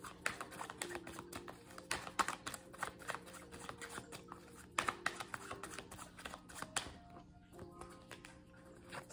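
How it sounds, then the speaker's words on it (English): Tarot cards are pulled and shuffled from a deck, soft rapid papery flicks and taps in quick irregular clusters, close and quiet, with no speech over them. "let me pull a couple more cards before I end your reading with Zodiac card"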